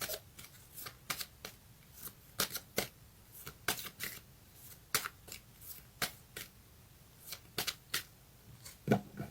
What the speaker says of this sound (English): I'm going to get one more house card for you.